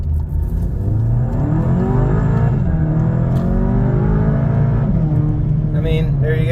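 A MK7 VW Golf Sportwagen fitted with stiffer 034 Motorsport Streetsport engine mounts drives through a neighborhood, its engine note rising and falling steadily under a continuous cabin drone, loud and close throughout.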